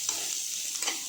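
Potatoes with salt and turmeric are stir-fried in a pan, giving a steady sizzle with two brief stirring scrapes in a short stretch and no voices.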